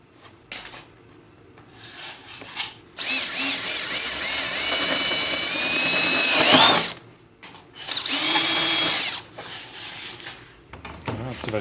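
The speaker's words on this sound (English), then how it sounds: "Got a drill bit that's just bigger than the actual shank of the switch. We'll go ahead and drill a hole." Power drill boring a hole through plastic bodywork on a Honda Foreman 450 ATV, with two loud whining bursts of the spinning bit separated by a short pause, nearby and with no talk over it.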